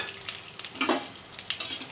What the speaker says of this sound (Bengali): জিরেগুলো লাল লাল করে ভেজে নেব